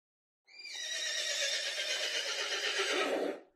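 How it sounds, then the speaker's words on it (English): A single loud, long whinny from a horse, shrill at first and trailing off after about three seconds. "horse."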